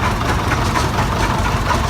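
The Red River Special, an antique gas and oil tractor, idles in the Rollag 2018 parade with a steady low, throbbing engine rumble that is close and continuous, with no talk over it.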